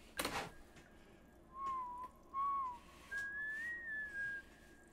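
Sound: man whistling in a music video

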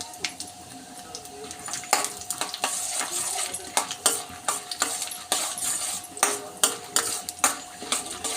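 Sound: peanuts frying in a pan

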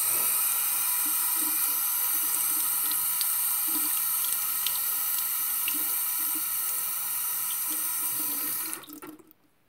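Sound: rinsing a product under running tap water

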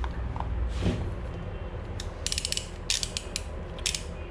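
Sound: 22 millimeter socket wrench ratcheting

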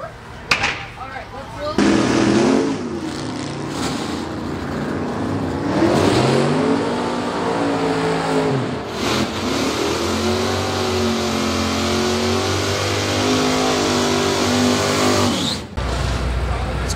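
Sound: race car accelerating on its bye run

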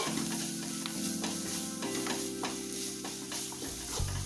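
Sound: stirring cut green chillies frying in a pan

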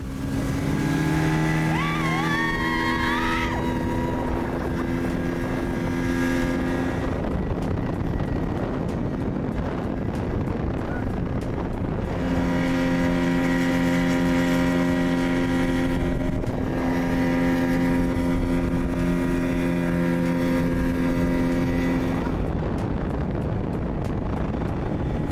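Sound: speedboat ride on Kerala backwaters

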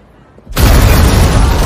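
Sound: explosion destroying a car

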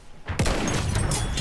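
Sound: sniper gunfire in Battlefield 1 video game

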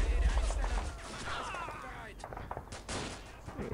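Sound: gunfire in Men of War: Assault Squad video game

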